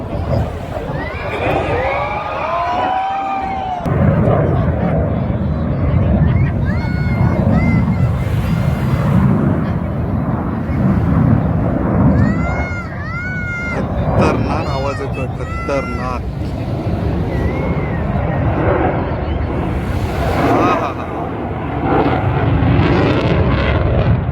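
A loud, steady roar of Indian Air Force aircraft at an air show over Marine Drive, Mumbai, with a crowd murmuring and chattering throughout and occasional high whistling tones cutting through.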